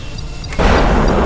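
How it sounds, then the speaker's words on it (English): Missiles launching in Kerbal Space Program during a land warfare battle, a sudden loud boom-like burst that swells into a sustained roaring rush after a quieter stretch. "Missiles away. 2 missiles away."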